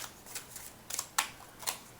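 A deck of tarot cards is shuffled by hand, giving several quick crisp riffling bursts spaced unevenly over two seconds, close to the microphone with no talking.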